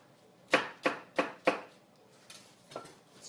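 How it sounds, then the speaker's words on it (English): A knife chops an onion into chunks on a board: four crisp, evenly spaced chops up close, then a few softer, scattered cuts. "So now you can just cut it into chunks like so."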